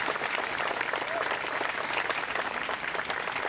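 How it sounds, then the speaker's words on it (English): A full round of applause fills the hall at the rededication of Main Hall, a historic 1891 building, with dense continuous clapping from a large audience and no voices over it. "Can we give them a round of applause for the beautiful building?"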